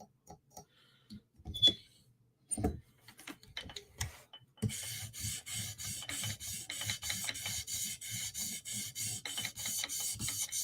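A Chris Reeve Sebenza Tanto knife is stroked across a whetstone, first a few scattered scrapes and taps, then a steady run of rhythmic rasping strokes, close and fairly quiet.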